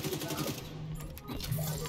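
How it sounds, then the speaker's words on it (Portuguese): Rapid gunshots ring out in The Division 2 inside an air and space museum, a steady rattling stream of fire that runs for the whole short stretch at moderate loudness. "Tô acertando um tiro nele também."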